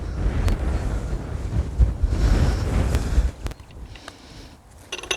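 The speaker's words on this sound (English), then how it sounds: "The wind's mental." Strong wind buffets the microphone on an open golf course, a loud steady rumble that rises and falls in gusts, with a few faint clicks near the end and no voices.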